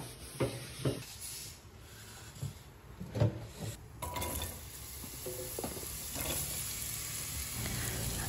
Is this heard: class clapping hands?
no